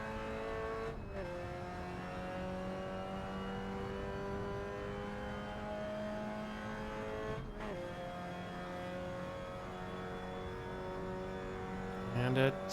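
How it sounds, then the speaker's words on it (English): Mazda MX-5 NB Cup race car in Assetto Corsa, its engine droning steadily at high revs with two sharp gear-shift dips and a brief burst of louder noise near the end. "we are in a Mazda MX-5 NB Cup, I want to say?"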